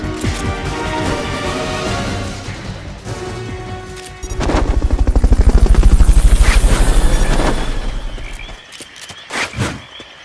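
A helicopter in Metal Gear Solid swells into a loud, close, rhythmic rotor thump that builds and then fades, framed by sharp game impacts.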